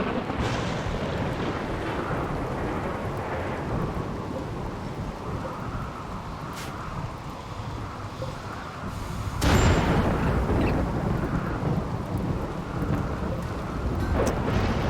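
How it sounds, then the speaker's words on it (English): A lightning strike and thunder in the video game Rimworld: a deep rumbling roll of thunder with rain-like hiss, then a sharp crack and a louder burst of rumble partway through. "He got struck by lightning."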